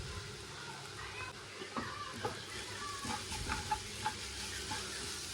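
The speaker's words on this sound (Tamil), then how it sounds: "நல்லா வெங்காயம், பச்சை மிளகாய், கருவேப்பிலை, இஞ்சி பூண்டு பேஸ்ட் எல்லாம் நல்லா வதங்கிருச்சு." Onion, green chilli, curry leaves and ginger garlic paste sautéing in a pan for goat blood poriyal, a low, fairly faint steady sizzle with a few soft stirring knocks.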